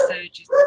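A dog barks twice in quick succession, short sharp yelps close to the microphone during an indoor meeting.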